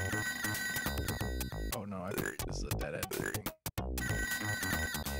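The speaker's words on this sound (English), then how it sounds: "There's a phone near one of us" A telephone rings inside the video game ToeJam & Earl, a loud electronic trilling ring repeating over game music, cutting out briefly near the end before returning.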